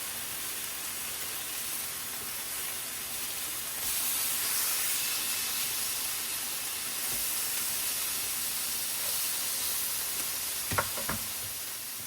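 Liver cooks in a pan with a continuous soft sizzle and hiss. The sound swells slightly partway through, and a couple of light utensil taps come near the end, with no talking.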